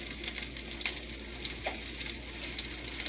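Wild mushrooms with garlic, cayenne and black pepper fry in a pan. A steady, hissing sizzle runs throughout at a low, even level, with faint occasional clicks and no voices.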